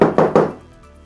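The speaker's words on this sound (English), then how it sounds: "You're gonna hear a little knocking noise." Three quick hollow knocks in an even rhythm, close and fairly loud, fading into quiet room tone with no talk.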